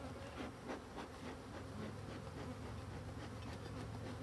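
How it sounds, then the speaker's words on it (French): A colony of agitated black honeybees swarms close around a beekeeper's face, their dense, steady buzz filling the air without a break. "j'ai 50 abeilles autour de mon visage"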